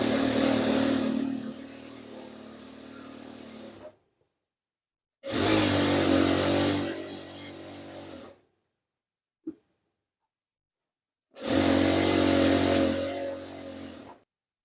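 A sewing machine stitches the elastic channel of a churidar pajama in three runs of steady whirring motor noise, each several seconds long and separated by silent pauses with one brief click.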